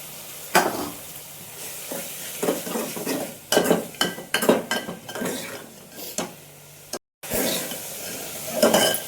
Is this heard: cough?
no